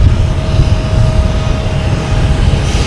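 A British Airways airliner at Boston Logan Airport gives off a loud, steady engine roar that fills the whole stretch, close and continuous with no speech over it.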